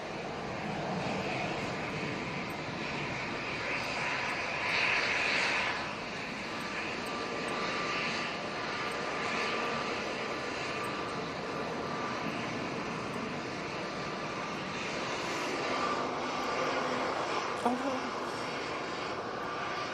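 An Emirates Airbus A380 coming in to land gives off a continuous broad jet rumble that stays steady with slight swells, faint and far off, while someone talks over it.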